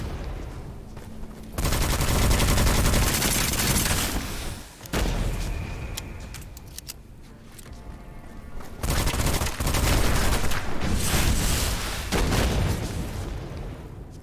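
Sustained volleys of gunfire from a firing squad in the first-person roguelike Witchfire, loud rapid bursts in two long stretches separated by a quieter lull, close and dense, with no talk.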